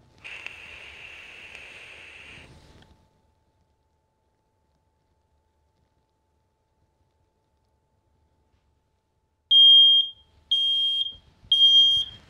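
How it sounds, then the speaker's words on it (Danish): A home smoke alarm set off by vapor smoke: a continuous shrill tone for about two seconds, then after a pause three loud, piercing bursts of rapid beeping close by. "Røgalarm, det kan vi jo teste ved at give den noget røg. Skal vi se, om den kan detekte min vapor her."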